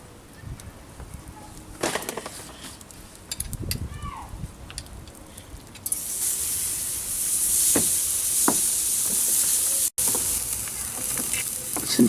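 Marinated chicken tikka sizzles on a garden barbecue, a steady broadband hiss that swells loudly partway through and holds, with faint birdsong and a few clicks before it.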